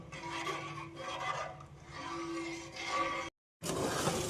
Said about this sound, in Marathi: आणि हे मिश्रण सतत ढवळत राहायचं आहे